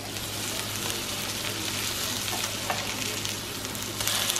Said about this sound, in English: You hear that sizzle?